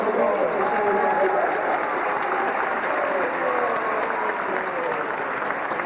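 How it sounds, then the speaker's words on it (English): Crowd applause at a Brookfield Zoo dolphin show, a steady wash of clapping from a large audience at some distance, with voices and tonal sounds running through it the whole time. "Let's give them a big round of applause"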